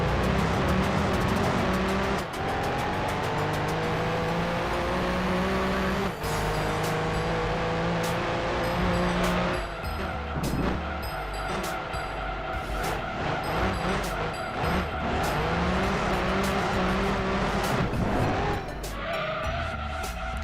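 A race car in Gran Turismo 2 roars continuously at high revs, its furious exhaust note rising and falling through gear changes, with tire squeal and skidding woven through the loud engine.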